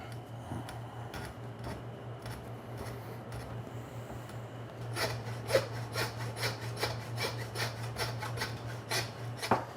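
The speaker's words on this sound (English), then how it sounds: "So you can see why that bandsaw was a revolutionary invention in the meat business." A bandsaw cuts a porterhouse steak from a dry-aged prime beef short loin, with a steady low motor hum under a rasping blade that gets louder and more rhythmically gritty partway through.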